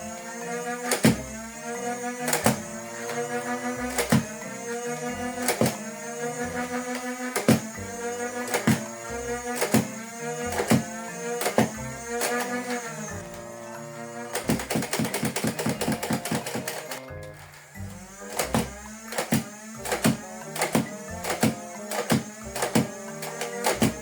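A Nerf bullpup blaster fires full-head darts in a regular rhythm of sharp mechanical shots, then a faster burst of rapid shots, then slower spaced shots again, loud and close.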